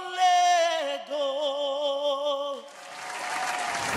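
A singer holds a long sustained note at the close of a song on a televised vocal competition, then clapping from the audience swells in as the voice ends.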